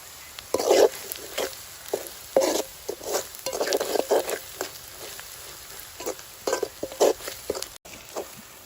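Onions are sautéed in a pan for Kerala fish pollichathu, a soft steady sizzle broken by repeated scraping stirs of a spoon against the pan, close and fairly quiet.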